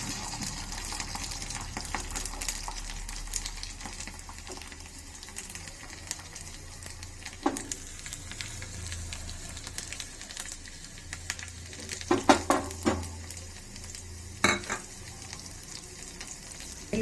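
Eight to ten peeled garlic cloves fry in oil already tempered with mustard seeds and dried chillies, a soft steady sizzle with scattered sharp pops and occasional stirring clatter.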